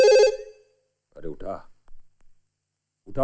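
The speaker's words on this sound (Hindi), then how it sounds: "कितनी देर से घंटी बज रही है" A telephone bell rings once, short and bright, in a Hindi film drama scene. Then it cuts off, followed by people talking.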